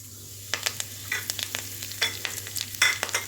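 Curry leaves dropped into hot oil with crackling mustard seeds for sambar, a close sizzle with sharp pops and spits over a low steady hum, no talking.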